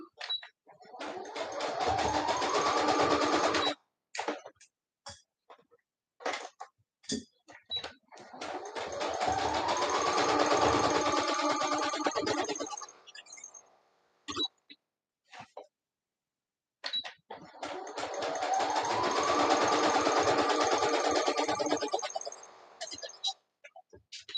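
Sewing machine stitching a seam in three separate runs of steady, rapid mechanical whirring and clatter, each lasting a few seconds, separated by pauses with faint clicks and handling noises.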